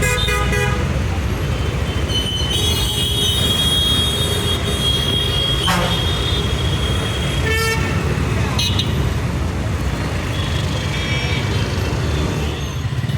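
At Ukkadam bus stand in Coimbatore, a bus pulls in with a rumbling engine, several loud horn blasts and a brief squeal, surrounded by busy station noise and occasional voices.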